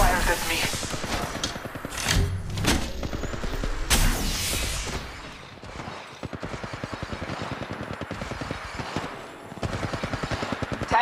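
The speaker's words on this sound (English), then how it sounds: "Shots fired at me." Gunfire in the Apex Legends Mobile battle royale shooter, dense bursts of loud rapid shots in the first half, then a quieter stretch of clicking and lighter shots, with game voice lines over it.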